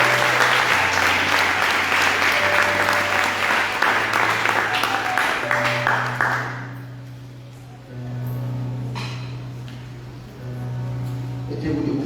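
Loud applause and cheering from a church congregation acclaiming the Lord at a seminar, dense and sustained for about seven seconds, then fading into lighter clapping and murmuring voices under a steady hum.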